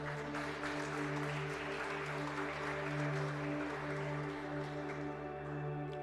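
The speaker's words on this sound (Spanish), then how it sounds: "Dele un fuerte aplauso al Señor, que Él vive." A church congregation applauds during a Spanish-language sermon, a steady broad patter of clapping spread through the room over a sustained low musical hum, with no talking.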